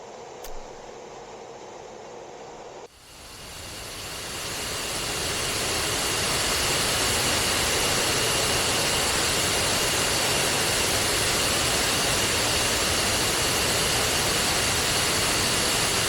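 An F-15E jet engine in the DCS flight simulator spools up into a loud, steady roar after a brief quieter start, building over several seconds and then holding a broad, constant rushing whine.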